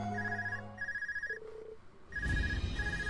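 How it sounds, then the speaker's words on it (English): A phone rings in the Trails of Cold Steel IV video game, a repeating electronic trill in short evenly spaced bursts, fairly quiet, with game sounds rising near the end. "I'm getting a phone call."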